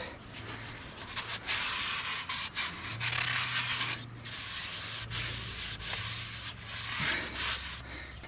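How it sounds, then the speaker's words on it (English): Steady rubbing and wiping strokes wiping cosmoline off a metal brake drum on a 2002 Chevrolet Venture, close up and continuous, with brief pauses between passes. "And we want to wipe the cosmoline off."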